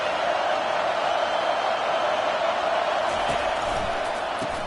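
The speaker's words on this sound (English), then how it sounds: "This crowd bringing the energy and noise early." Stadium crowd at a college football game, Oklahoma at Michigan State, a dense continuous roar of many voices held at a steady level throughout.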